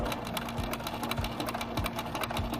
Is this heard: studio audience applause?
no